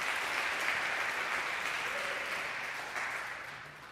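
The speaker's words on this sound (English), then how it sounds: "I think that deserves a round of applause." A congregation applauds during a service, a soft, even wash of clapping that holds steady and then gradually fades toward the end.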